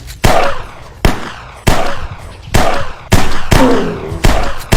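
Gunshots ring out in the VR game Dinosaur Island, six loud, sharp blasts spaced about a second apart, each trailing off with a reverberant tail.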